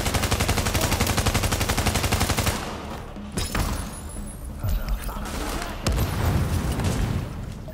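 Sustained rapid automatic gunfire rattles loudly in the video game The Division, then breaks off into scattered shots and a sharp grenade blast, with someone talking over the combat.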